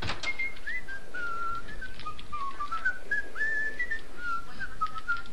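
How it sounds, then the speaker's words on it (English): A person whistles a wandering, continuous melody in the PC video game Max Payne, clear and fairly close over a soft, steady background hum. "Who's whistling?"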